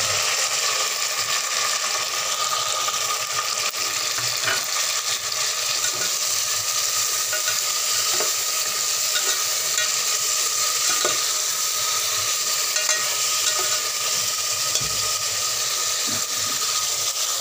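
Steady sizzling of ginger, garlic and tomato frying in a hot pan, continuous and fairly loud, with occasional soft stirring clinks and no talking.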